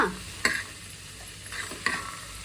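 Brown chana frying in oil for a raw banana gojju is stirred with a spoon, giving two distinct scraping clinks over a soft steady sizzle, close and moderately quiet with no voices.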